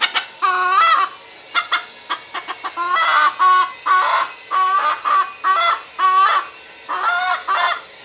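A rooster crows and clucks repeatedly at close range, loud rhythmic bursts of calls in a series with short gaps between them and no talking.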